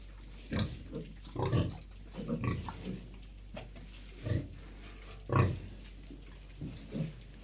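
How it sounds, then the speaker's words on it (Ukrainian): A sow that has just farrowed gives a series of short, low grunts, about eight spaced bursts over several seconds, close by in a quiet pen with steady background hum. "Щось боїться свиноматка Даша"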